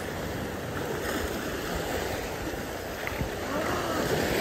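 Ocean surf washing onto a Los Angeles beach, a continuous broad roar with wind buffeting the microphone, no clear breaks between waves.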